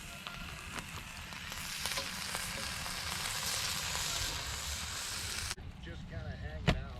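Bacon frying in a pan at a campsite, a close, continuous crackling sizzle that cuts off abruptly near the end, leaving quieter outdoor sounds with a voice briefly audible.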